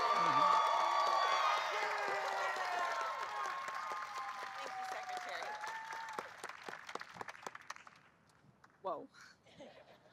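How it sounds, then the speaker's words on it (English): An audience at a state and national Teachers of the Year ceremony bursts into applause and a few cheers, loud at first and then gradually dying away, with a brief voice near the end. "Let's give Juliana a round of applause."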